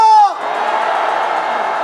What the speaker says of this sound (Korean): 다시 한번 함성 부탁합니다.